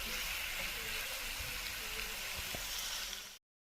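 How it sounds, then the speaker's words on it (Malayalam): Onions, tomatoes and green chillies sauté in a pan for a spicy Kerala mussel curry, giving a steady, soft sizzle close by that cuts off abruptly near the end. "എന്നിട്ട് ഉള്ളി നല്ലപോലെ വാടുന്നവരെ നല്ല പോലെ നമ്മൾ ഇളക്കി സെറ്റാക്കി കൊടുക്കുക."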